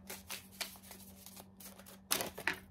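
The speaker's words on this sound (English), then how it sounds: "I've seen that shuffling." Oracle cards being shuffled by hand, a run of soft, quick riffling bursts at close range with short pauses between them and a louder flurry near the end.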